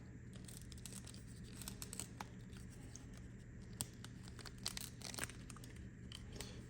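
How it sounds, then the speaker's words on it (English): Vane fletchings being peeled off arrow shafts with a fletching removal tool during a budget big-game arrow build, giving repeated faint tearing and crinkling rasps at close range over a low steady hum. "we got our fletching removal tool. We'll go ahead and start just peeling these off"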